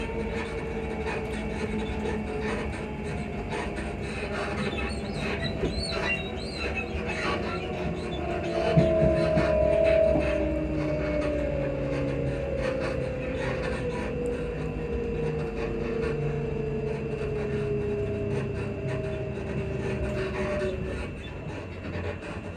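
A Class 334 electric multiple unit running on the line near Edinburgh, its suspension giving off continuous high-pitched squeaks and gliding squeals over steady interior rumble and wheel noise, with no voices.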